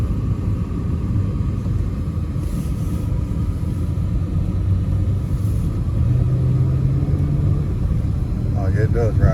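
Inside an Infiniti car riding on the road, a steady low rumble of engine and tire noise runs throughout, while people talk over it.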